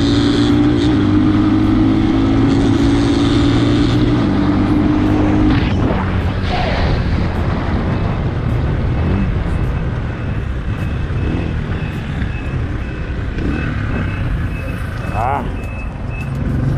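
A Motor1 Trail 250 motorcycle engine runs steadily while being ridden, a loud continuous drone with shifting pitch as it accelerates, heard together with someone talking over it.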